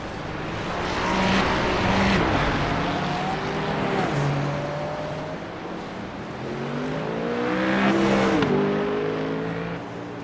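GT3 race car engines in the iRacing sim at Okayama International Circuit drone loudly and continuously, with pitch rising and falling through gear shifts and several cars audible together.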